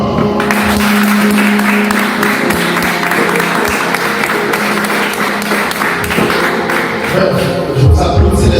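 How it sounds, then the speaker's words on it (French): An audience applauds warmly during a special simulation session, a steady dense wash of clapping filling the whole stretch at close range, with a few thumps and some voices near the end. "c'est ce que moi je vous demande de les applaudir chaudement"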